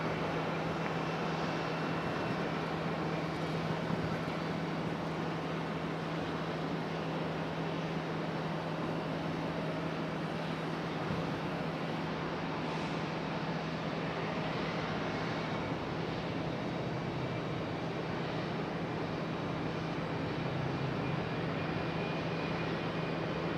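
A Boeing 757 airliner lands at Raleigh-Durham International Airport, heard as a loud, steady engine roar with a constant low hum running throughout and no distinct peaks.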